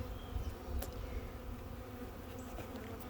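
Honeybees hum in a steady low drone as two hives are combined, a close, continuous buzz with a few sharp clicks and no talking.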